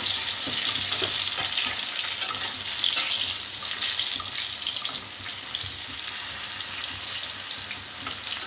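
Eggplants frying in hot oil give a steady, loud sizzle and crackle that continues unbroken and tapers slightly near the end, with no voices over it.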